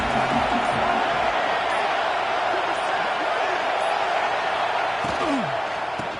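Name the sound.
stadium crowd noise in video game NCAA 26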